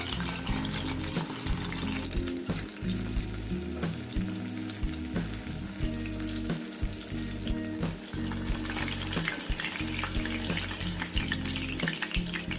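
Chicken 65 pieces frying in hot oil over a medium flame, a dense continuous sizzle with crackling pops and occasional stirring or scraping, close and steady with no voices.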